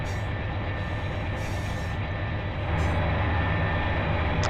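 Santa Fe C44-9W diesel locomotive hauling a freight train over Tehachapi in the Run 8 Train Simulator, a loud, steady engine rumble with a low throb that deepens and grows slightly louder near the end, no talk.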